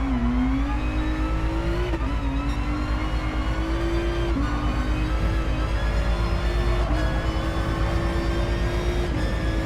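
Race car engine in a sim racing game revving hard through the gears, its steady high-pitched drone broken by quick shifts, loud and continuous throughout with no one talking.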